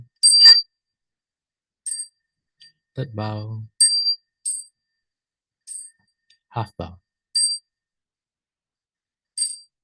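A meditation bell rings during a Buddhist sutra lecture, with repeated light, high strikes spread across the clip and a voice calling out bows between them.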